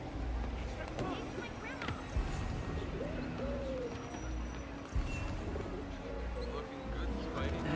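Pigeons cooing in Marvel's Spider-Man video game, soft coos mixed into a busy city ambience of traffic and water, with a person talking over it.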